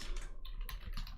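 Quick, light keystrokes clatter on a computer keyboard, a short close burst of uneven tapping.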